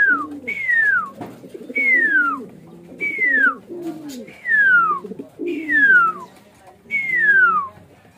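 Repeated pigeon calls recur about every second or so in a steady rhythm, each a short sliding phrase, with a lower murmuring coo underneath.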